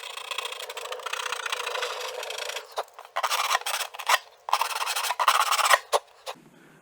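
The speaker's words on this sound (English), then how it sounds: "I'm going to scuff this really, really well" Coarse abrasive scuffing on the bare wood of an R/C racing boat, a steady rasping run of strokes that turns into short choppy bursts near the end, close up with no talk.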